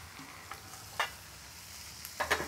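Chicken sautéing in a pan with wine added, giving a low steady sizzle with a few sharp crackles and stirring clicks, close and fairly quiet, no voices.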